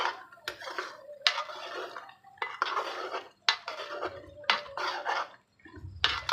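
Chicken karahi is stirred and fried in a wok over high heat, with bursts of metal spoon scraping and clanking against the pan separated by short pauses, close and fairly quiet, with no talking.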